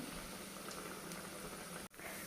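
Curry leaf and green pea dal vadas fry in hot oil, giving a steady, even bubbling hiss that cuts out briefly near the end before resuming.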